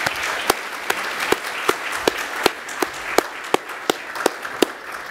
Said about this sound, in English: I would still like to give her a very big hand of applause for all the work that she did